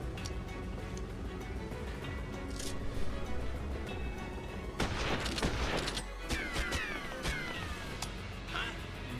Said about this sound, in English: Bringing in the heavy artillery.